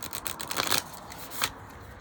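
Tarot deck with stiff cardstock being shuffled up close, a soft fluttering riffle with a few crisp bursts of card edges snapping together, quiet and alone.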